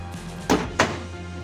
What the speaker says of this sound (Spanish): Un golpe seco suave aquí.